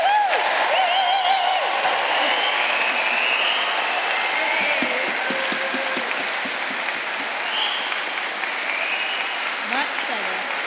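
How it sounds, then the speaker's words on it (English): Audience applause for graduates at a Birmingham degree ceremony, a loud, steady wash of clapping from a large crowd that fills the hall and holds without a break. "if all the graduates stand up and we can give them a first round of applause for today"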